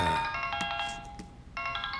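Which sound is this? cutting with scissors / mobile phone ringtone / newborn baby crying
mobile phone ringtone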